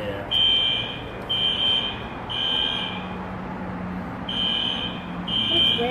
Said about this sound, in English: I think somebody pulled the fire alarm.